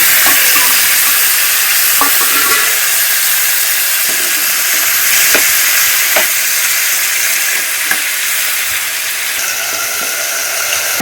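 Tomatoes, onion and tamarind fry in hot oil with a loud, constant sizzle and hiss, close up, broken by occasional soft clicks of stirring.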